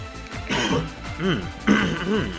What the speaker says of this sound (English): Give me 1 second to clear my throat.